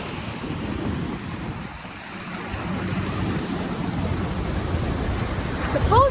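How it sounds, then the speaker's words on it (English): Waves stirred up by a passing boat wash and churn steadily on the open sea in fog, a broad rushing surge mixed with wind buffeting the microphone, swelling slightly louder toward the end. "The boat's waves are big because you guys can see a big comparison over there."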